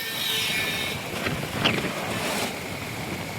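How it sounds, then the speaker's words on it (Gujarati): Strong wind blows hard against the microphone outdoors in a steady roaring gust with rising surges, loud and continuous with no talk. "આજે સવારમાં પણ વહેલા 5 વાગે થોડો પવન ફૂંકાયો હતો. એ થોડો ધીમો હતો પણ અત્યારનો પવન તમે જુઓ"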